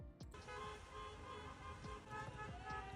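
Car horns honk across a street in Casablanca as people celebrate Morocco winning the African championship, with sustained, overlapping toots in busy traffic amid crowd noise.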